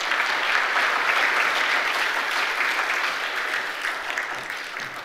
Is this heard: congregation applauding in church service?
yes